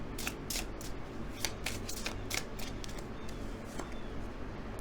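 Tarot cards being shuffled by hand, a soft repeated riffling and flicking with brief crisp bursts over a steady low room hum, close by and with no voices.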